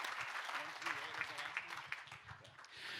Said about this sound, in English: Let's give them all a great big round of applause